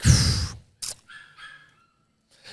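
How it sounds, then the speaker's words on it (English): A dog outdoors gives a loud bark, then a short yip and some whimpering whines, with quiet gaps between sounds. "Love that dog out there."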